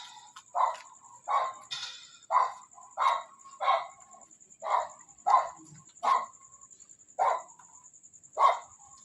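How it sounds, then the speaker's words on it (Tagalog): A dog barks near a cemetery at night, about a dozen evenly spaced single barks at a fairly steady rhythm, with a high, constant insect-like whine behind them. "Ang ingay na aso, guys."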